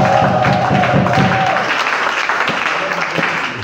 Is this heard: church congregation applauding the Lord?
yes